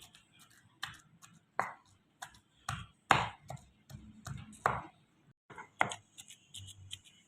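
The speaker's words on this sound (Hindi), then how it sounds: "ये देखें अब इसे ना कूंडी में हमने अच्छी तरह से पीस लेना है।" Cooked chicken for shami kabab is pounded in a kundi mortar, giving a string of irregular, fairly close thuds and grinding knocks with short pauses between strikes.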